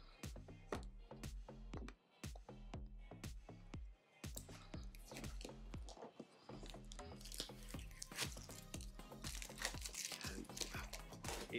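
Stiff plastic packaging around a new pair of Acerbis X-Race motocross boots crinkles and crackles in dense bursts close up, with brief pauses between handfuls.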